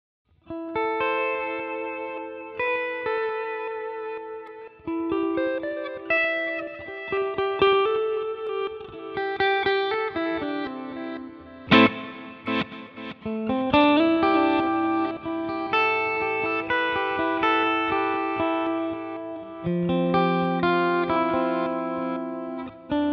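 An electric guitar through a Line 6 Helix glitch delay plays sustained, shimmering notes with glitchy delay repeats and a big washing reverb, layered tones blooming and trailing into each other.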